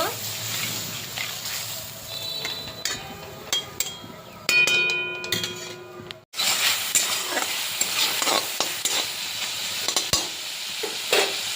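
Shrimp curry, with juice from ground shrimp heads and tails mixed in, simmers and sizzles steadily in a pan, with scraping stirs and light clinks of a utensil and a brief break midway.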